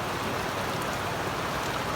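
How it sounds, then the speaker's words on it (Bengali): Heavy rain pours down steadily outside a home, a dense, continuous hiss of drops hitting surfaces that stays loud and even throughout, with no voices. "দেখো কেমন বৃষ্টি এসছে জোরে"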